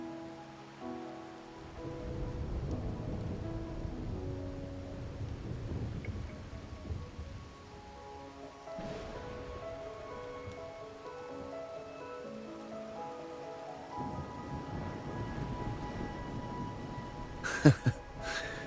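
Steady rain with rumbling thunder in the video game Wuthering Waves, a continuous wash of downpour with low rolls of thunder and a sharp crack near the end, with a faint musical tone underneath.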